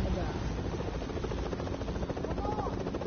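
A video-game helicopter's steady rotor drone and buzz fills the clip, with voices talking over it throughout.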